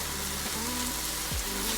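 Chilies going into a sizzling pot for beef stew give a continuous fry hiss, with a few quick stirring or scraping sounds on top, heard at moderate distance.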